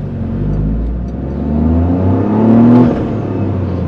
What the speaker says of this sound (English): You can hear a little nice little growl from the engine for that inline 3.